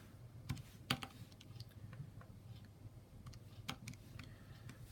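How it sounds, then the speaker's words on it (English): Quiet tapping on a calculator keypad, a handful of sharp, irregular key clicks close to the microphone over a faint room hum. "I'm going to type in the calculator like that."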